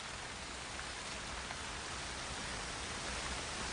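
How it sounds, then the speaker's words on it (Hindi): Steady, dense downpour of heavy rain, a continuous hiss of drops pounding surfaces with no pauses or voices. "लेकिन इस बात में कोई शक नहीं कि ऐसी बारिश हौसला तोड़ देती है।"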